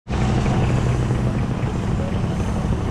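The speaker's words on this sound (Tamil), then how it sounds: "இப்போ இன்னொரு சின்ன போட்டு வந்து உள்ளே வருது." A small fishing boat enters Jeppiar harbour at Muttom, Kanyakumari, its engine a steady low drone that begins abruptly and holds loud and continuous, with wind noise over it.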